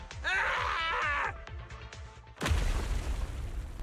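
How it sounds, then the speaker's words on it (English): A video game explosion: after a drawn-out groaning wail and scattered thuds, a sudden deep boom hits midway and trails off into a heavy rumbling roar of collapse. "The explosion causes surrounding to collapse as a desperation."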